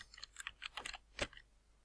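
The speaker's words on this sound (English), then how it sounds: "Now in the course name you need to type in medicine" Someone types a course name on a computer keyboard in a quick, quiet burst of close clicking keystrokes that ends with one firmer key press. There is no talking.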